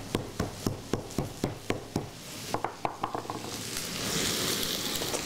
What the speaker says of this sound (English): And the shallot, garlic, give a little stir.